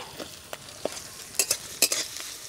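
Chopped onion going into a frying stale-roti dish in a pan: a sizzling bed broken by several quick scraping stirs and sharp bursts of sizzle, close and fairly loud.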